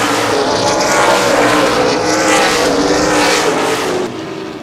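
Race cars in an ARCA/CRA Super Series event at Baer Field Speedway roar around a half-mile oval, a loud, continuous engine drone with rising and falling passes that drops off slightly near the end.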